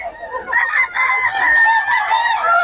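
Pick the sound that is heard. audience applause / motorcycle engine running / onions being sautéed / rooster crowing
rooster crowing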